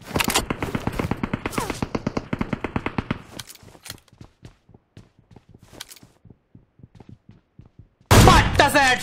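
Rapid automatic gunfire in the mobile battle royale game PUBG Mobile, a long burst of fast shots followed by scattered single shots and echoing reports, ending with a loud noisy blast.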